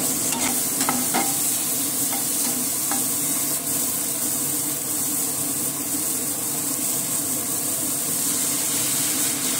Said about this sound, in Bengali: আমি 10-12টি চিংড়ি মাছ এর মধ্যে দিয়ে আরও 2-1 মিনিট নাড়িয়ে নেব